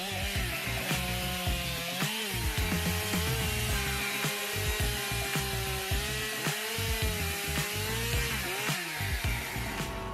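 A Husqvarna 254 SG chainsaw cuts big wood, its engine droning in a steady whine with repeated dips and rises as the chain bites, accompanied by rhythmic knocks and clatters throughout.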